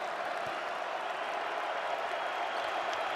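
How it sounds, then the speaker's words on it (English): An arena basketball crowd in a Syracuse vs. North Carolina ACC game, a steady, moderately distant wash of cheering and clapping for Syracuse with no distinct peaks. "Crowd trying to get behind the orange."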